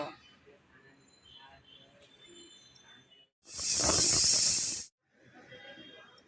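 Jackfruit seeds boiling in their shells give off a loud, steady steam hiss that rises abruptly, holds for about a second and a half, then cuts off, with quieter kitchen noise before and after.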